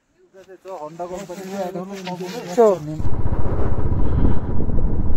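A Honda motorcycle descends from Khardung La pass in Ladakh; after about three seconds of voices, its engine rumbles loud and close, a steady low throb with rough broadband wind and road noise.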